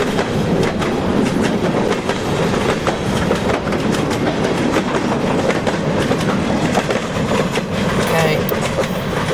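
A Portland Western old mixed freight train rolls past at close range, a loud continuous rumble with clickety-clack wheel beats on the rails throughout.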